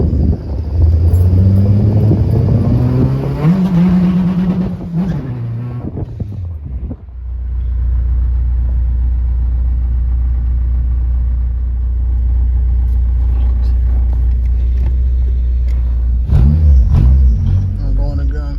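A K24A2-swapped Honda Civic EM2 with a 5-speed Accord transmission revs hard up through the gears, then settles into a deep steady cruising rumble from inside the car, with voices over it.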